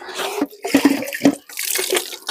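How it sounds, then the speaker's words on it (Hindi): Water gushes from a tap in a village home, a close, continuous splashing flow with uneven surges and no voices. "वो देखिए कैसे पानी निकलता है नल से।"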